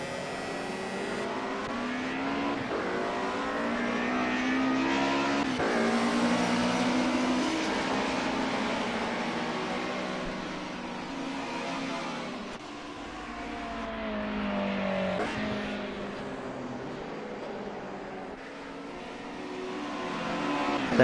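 Historic touring cars, a mix of BMW, Ford and Mercedes, roar off the start of a race and accelerate past, with layered engine noise swelling and fading continuously for about twenty seconds at fairly close range.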